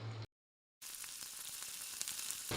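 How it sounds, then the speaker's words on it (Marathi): Rava-poha tikkis shallow frying in a pan of hot oil, a dense even sizzle rising after a short gap, close and moderately loud, with no talk. "तेल चांगलं गरम झालेलं आहे आता मी याच्यामध्ये एक एक टिक्क्या सोडून घेते"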